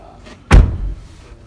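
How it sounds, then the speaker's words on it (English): A car door slams shut on a Farizon SV electric van, one close, solid thud with a short low boom that quickly fades into quiet background. "good thud from the door."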